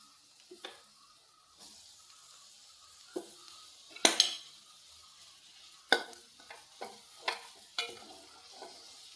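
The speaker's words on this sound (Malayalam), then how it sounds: "ഇളക്കി കൊടുക്കാം നല്ല വൃത്തിയായിട്ട്." Soybean roast frying in a pan, with soft sizzling under intermittent scrapes and clinks of a spoon stirring against the metal, several sharp knocks spaced through the stretch.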